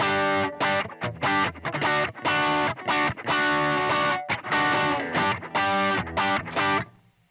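Electric guitar played through an overdrive pedal on a 2022 pedalboard with an Ibanez drive, loud and saturated, a choppy rhythmic riff of distorted chords with short gaps, ending in a ringing fade.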